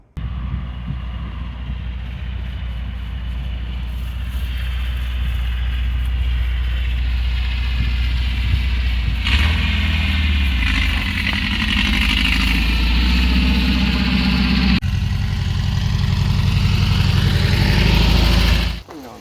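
A dune buggy engine runs steadily and loud for the whole stretch, its pitch rising and falling as the buggy drives a lap around a yard, before cutting out at the end.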